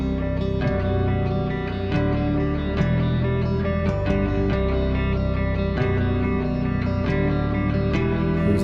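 Prog rock guitar riff replayed an octave higher: a loud, distorted, effects-heavy electric guitar pattern that repeats in steady rhythmic bursts over a full backing, with no talking.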